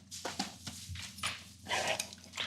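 A large dog barks on command in several short, loud bursts with brief pauses between them, heard fairly close with no talking over it.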